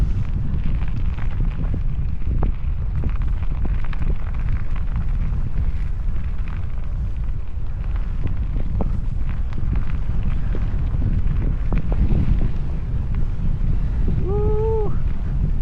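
Strong wind buffets the microphone during a bike ride at a lake in North Dakota, a constant loud low rumble that carries all the way through, with a brief high whistle-like tone near the end.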